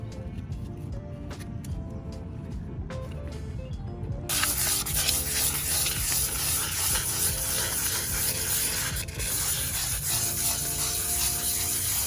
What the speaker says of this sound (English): 120 grit. And you're just scuffing it up.